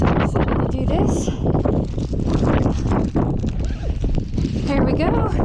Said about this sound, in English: We got a good amount of wind, gusts up to 20-25 miles per hour.